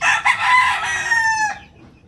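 A native chicken rooster crows once, loud and close, a long strained call that rises and then trails off at the end.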